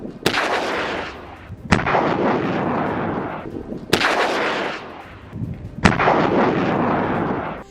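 Heavy mortar and rocket fire in Gaza: four loud, booming blasts spaced about two seconds apart, each followed by a long rumbling roll that fills the gaps, with no voices.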